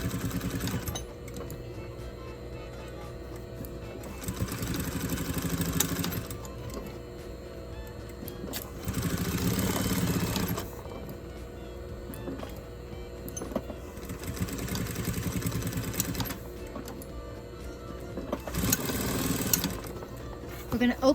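A sewing machine stitches a corset seam in several short bursts of motor whir and needle clatter, with quiet gaps between runs. It sounds close and moderately loud, and someone talks over parts of it.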